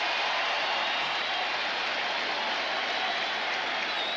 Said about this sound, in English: Crowd has really come alive.